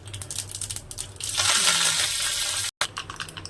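Curry leaves drop into hot oil already crackling with mustard seeds for tempering, setting off a loud sizzling hiss that swells then cuts off abruptly, with light clatter before and after.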